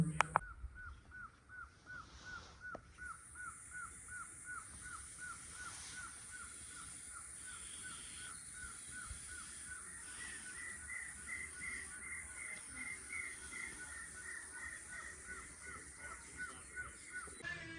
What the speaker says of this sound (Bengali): মাঝে মধ্যে শুধু দূর থেকে পাখির আওয়াজ ছাড়া